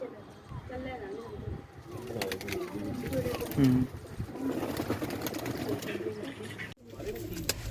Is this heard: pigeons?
yes